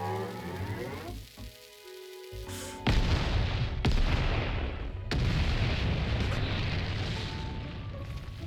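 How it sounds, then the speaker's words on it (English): A bomb explodes with a sudden loud blast, then further heavy booms follow about a second apart, each trailing into a rolling, crackling rumble that lingers at high volume. "That's a bomb!"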